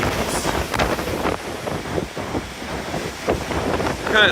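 At night on a cruise ship on the open ocean, wind buffets the microphone steadily while waves rush and wash against the hull beneath it, producing a continuous broadband roar with gentle swells in loudness.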